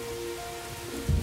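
Heavy rain in a children's animated cartoon falls as a steady hiss under a faint tonal hum, with a louder burst of low rumbling right at the end.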